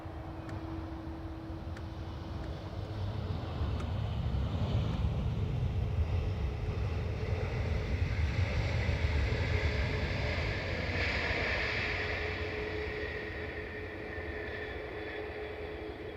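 An Airbus A321XLR arriving from Barcelona lands at Dublin Airport: a distant, steady jet roar with a broad rushing wash that swells in the middle and eases off, heard alone outdoors.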